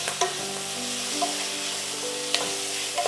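Chopped green chillies and capsicum fry in a pan with a steady close sizzle, punctuated by a few light stirring clinks and scrapes, with no talk.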